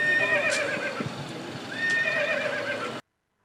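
A horse ridden during a cycling race tour neighs twice in loud, close whinnies over a background of hooves clip-clopping, then the sound cuts off abruptly.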